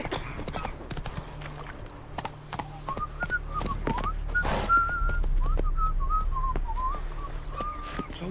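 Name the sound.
horse galloping, hooves clip-clopping, from video game The Witcher 3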